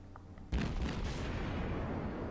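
The cruiser Nürnberg fires its rear turret guns in the naval video game World of Warships, one loud booming salvo that rolls on in a sustained rumble.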